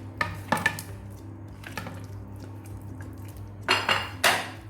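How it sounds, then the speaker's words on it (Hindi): Raw chicken pieces go into a bowl of spiced masala with lemon juice and are tossed around, bringing clinks of a utensil against the dish and soft wet thumps, close by and without talking. "अब हम इसके अंदर चिकन जो है उसको इस तरह से डालते हैं, इस तरह से।"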